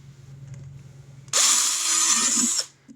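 A power drill drilling holes in a battery box whines steadily for about a second and a half, loud and close, then stops abruptly.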